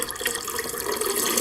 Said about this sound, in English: I fill a bucket with water and grab a brush.